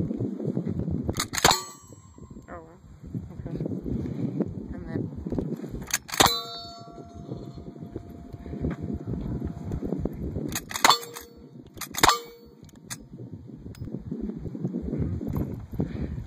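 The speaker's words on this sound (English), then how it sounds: "So when I pick this up, I'm gonna fire it." Wild Bunch action shooting, with sharp loud gunshot cracks near 1.5, 6.2, 10.9 and 12.1 seconds, some ringing with a metallic clang, over steady outdoor rumble and wind.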